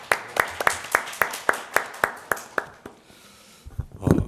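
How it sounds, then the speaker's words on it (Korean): Audience at a policy forum applauding to welcome a university professor as speaker, heard as a sparse, regular series of distinct claps that fades out, followed by a brief rustle. "따뜻한 박수로 맞아주시기 바랍니다."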